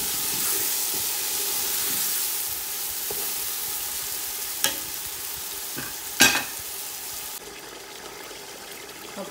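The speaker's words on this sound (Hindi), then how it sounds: "अब काफी भून चुका है मसाला, तो अब गोश्त डालते हैं इसके अंदर, तो इसे हम भून लेते हैं।" Mutton frying in karahi masala in a wok-like pan, a steady close sizzle and hiss with a few sharp stirring knocks, no voices.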